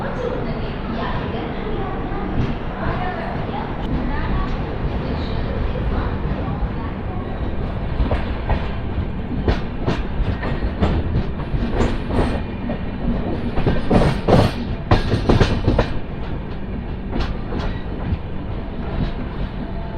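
Simhapuri Express train running steadily after leaving Warangal station, heard from inside the coach as a continuous rumble with clickety-clack wheel beats that grow louder and rattle near the middle, with faint voices in the background.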